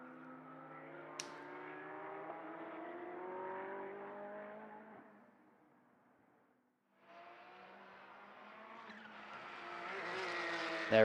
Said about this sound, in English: you could hear that turbocharger flutter there as it went into turn 3